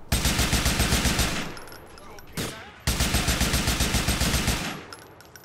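Rapid automatic gunfire from enemy-shooting in a video game, two loud sustained bursts separated by a short gap, with talk faintly mixed in.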